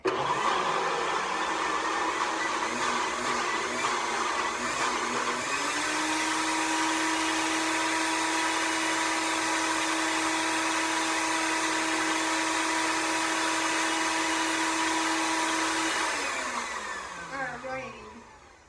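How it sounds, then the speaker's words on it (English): A kitchen blender whirs continuously while blending healthy snack ingredients, a loud steady motor roar that shifts pitch partway through, runs for many seconds, then winds down and stops near the end. "put it back in the blender and blend it for about a minute"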